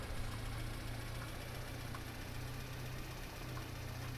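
A broken Lada car engine in Farming Simulator 22 drones steadily with a low hum and faint knocking, running continuously at constant loudness throughout with no talking.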